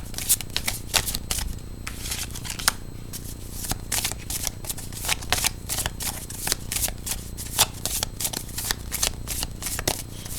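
A deck of cards is shuffled up close, with rapid, crisp riffling bursts and flicks repeating steadily, and no voice over them.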